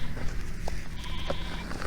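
Sheep bleat in an open field, a couple of short nasal calls over steady outdoor noise and wind.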